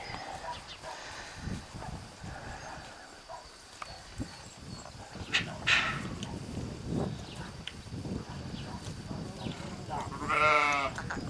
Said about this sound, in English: I especially liked seeing the sheep and the goats.